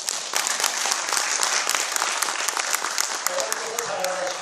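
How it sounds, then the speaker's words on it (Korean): Audience at a speech on history by the chairman of a scholarship foundation breaking into sustained applause, a dense, fairly loud clapping wash throughout, with a voice speaking faintly near the end. "박수 한번 치세요"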